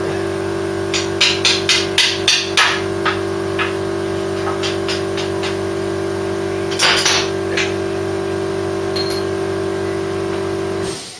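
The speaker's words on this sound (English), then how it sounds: "I have to tap the bolt out now" A run of sharp metallic hammer taps knocking out a bolt on a Mk3 Ford Cortina, about ten quick strikes, then a few more later, over a steady machine hum.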